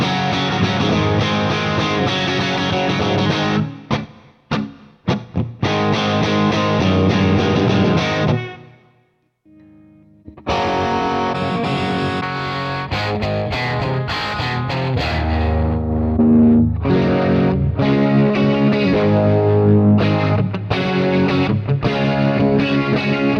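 Crunchy distorted electric guitar through a Headrush pedalboard plays chords and riffs loudly, with a short pause and a near-silent gap before picking back up.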